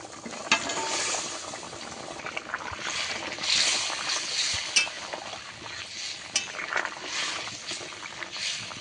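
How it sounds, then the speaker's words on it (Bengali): A pot of pomfret fish curry gravy with potatoes and butter beans boils away, a continuous close bubbling and simmering with occasional louder blips and a faint clink, and no voices. "ঝোলটা আমার ভালো মতো ফুটে গেছে, আর আলু তো প্রায় সেদ্ধও হয়ে গেছে।"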